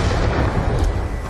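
A concussion grenade detonates in the video game Black Ops 2, giving a dense, muffled low rumble that fills the short clip with no clear sharp onset.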